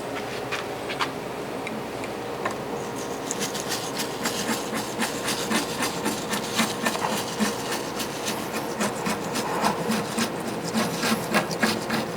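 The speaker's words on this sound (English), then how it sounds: "Don't really have to do a whole lot of scraping," Old gasket is scraped off the rim of a Kamado grill, a close, steady rasping and scratching with repeated short strokes and light ticks throughout.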